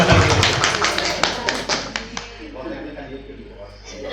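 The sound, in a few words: applause, clapping hands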